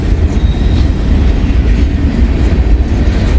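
A severely underpowered Wisconsin Central train rolls around a bend, a loud, steady low rumble with clickety-clack from the rail cars running the whole time and no voices.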